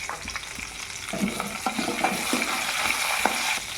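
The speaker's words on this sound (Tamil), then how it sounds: "கோவக்கீரை, கோவத்தலை இலை போட்டு ஒரு வதக்கு" Ivy gourd (kovai) leaves and other foraged herb leaves sautéed in a pan, a steady close sizzle with scattered scraping stir strokes and light clinks, no voices.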